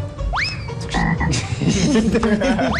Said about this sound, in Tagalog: Binilikan ni Namela at Jason ang pagbisita sa kanila ng palaka